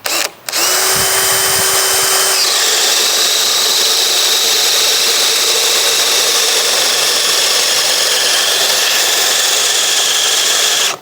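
A DeWalt DCD1007 cordless hammer drill whirs loudly and steadily after a brief start, boring continuously for several seconds with a large self-feed bit, a high-pitched motor whine and grinding bit.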